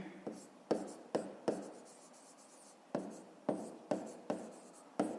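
A pen writes on paper while a fifth-grade maths exercise is worked out, giving a run of short, scratchy strokes in quick bursts with a brief pause midway, close and fairly quiet, with no talking.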